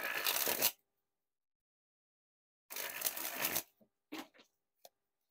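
Fontaine China Town playing cards sprung from hand to hand in two crisp bursts of rapid fluttering, followed by a few sharp slaps of cards landing.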